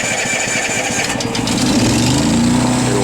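An inboard boat generator engine cranks over and catches during winterizing, settling into a steady mid-pitched running drone, loud and close with no talking.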